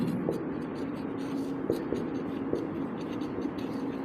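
Pen or chalk scratches steadily across a notebook or board during a class, a continuous close scribbling rasp with small taps and strokes over a low room hum, no talking.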